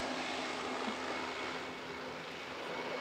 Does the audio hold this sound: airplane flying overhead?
yes